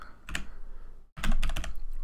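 Rapid clicking keystrokes on a computer keyboard pause briefly, then resume as a dense burst of close, crisp taps over a soft background hiss.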